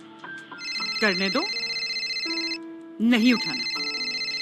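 A telephone ringtone plays in a repeating electronic melody, steady and close, while a person speaks briefly over it in two short bursts.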